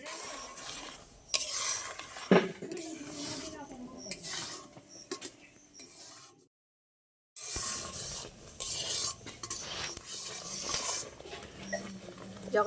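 A spoon stirs mango pulp in a wok on a lit stove, with repeated scraping and clinking strokes. There is a short silent gap in the middle, and faint sizzling sits under the strokes.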